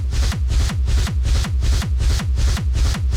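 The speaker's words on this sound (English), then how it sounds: "So then all together the kick group will sound like this" Full layered kick group from a hard techno track built in Ableton Live, a loud, driving stream of deep pitched-down booming kicks with gritty noisy highs on top, pounding in a steady fast rhythm with no gaps.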